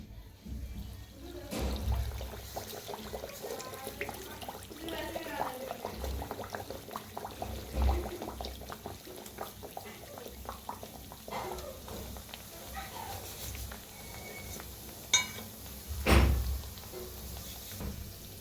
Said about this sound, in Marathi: तेल तापलंय चांगलं तेला सोडूया